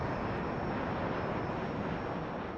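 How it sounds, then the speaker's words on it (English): Steady, loud broadband roar of an Airbus airliner's engines in flight, a continuous dense rumble with no breaks or voices throughout. "The Airbus will now loop back east of Bordeaux and return to Perpignan."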